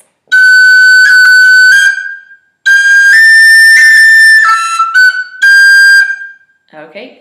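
A tin whistle plays a phrase of the Irish tune Kitty's Rambles, bright sustained notes with quick ornaments in two runs separated by a short gap, played alone and close.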